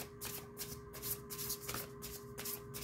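Tarot cards shuffled by hand: soft, quiet riffling and sliding in repeated short bursts at close range, with no talking.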